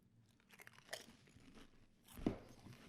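Close, quiet crunching as someone bites into and chews an original Pringles potato chip, a few soft crackles building to one sharper snap near the end, no talking.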